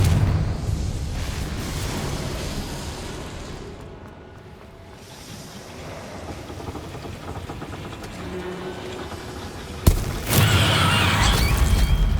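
A Confringo spell explodes in Hogwarts Legacy with a loud, rumbling, broadband blast. It swells over several seconds, then a sharp crack hits and the roar continues.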